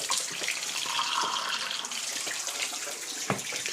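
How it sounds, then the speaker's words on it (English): Water poured into a copper solution makes a steady, close splashing hiss that runs the whole time, with a small clunk near the end. "So we need a bit of water with it."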